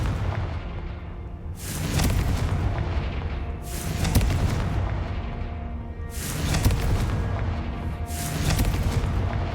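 Repeated Confringo fire spell blasts in Hogwarts Legacy, four loud booming bursts spaced about two seconds apart, each with a crackling rumble that trails off before the next hit.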